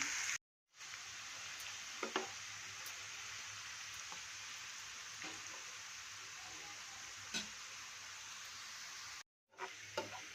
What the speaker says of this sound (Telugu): ఇదే విధముగా మిగిలిన కాకరకాయలన్నీ వేసి వేయించుకోవాలి